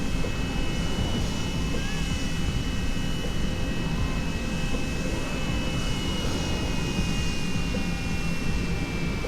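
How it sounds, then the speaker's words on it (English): A jet airliner engine in the X-Plane 11 flight simulator drones steadily and loudly from behind, a continuous roar with a faint high whine layered on top throughout. "By the sounds of it, we've got another plane behind us."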